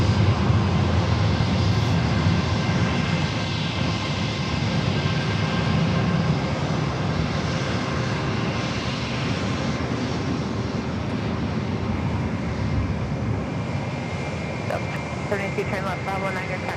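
An Airbus A320 in birthday cake livery at San Diego airport gives off a loud, continuous broadband roar of jet engines, steady throughout, with faint radio-like talk over it.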